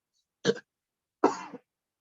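A man in polluted Delhi air gives two short, dry coughs, the second slightly longer and rougher, close by with silence between them.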